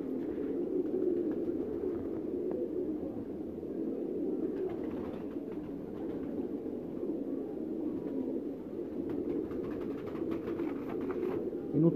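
Pigeons cooing on a Faisalabad rooftop loft, a continuous low, throaty burbling from several birds close by, with faint scattered clicks and rustles and no talking.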